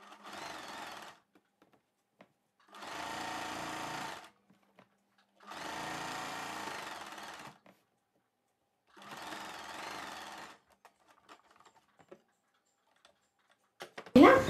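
A sewing machine stitches the side seam of a boat-neck blouse in four separate bursts of rapid mechanical whirring, close and clear, with quiet pauses between runs and a short clatter at the end.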